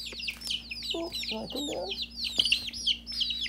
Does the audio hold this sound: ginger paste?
no